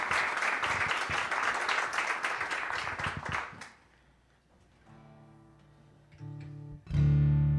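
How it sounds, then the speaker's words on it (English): Audience applause at a live show, a dense burst of clapping that fades out after a few seconds, followed by quieter room sounds and a low hum. "please give a nice big round of applause to Rosanne Raneri"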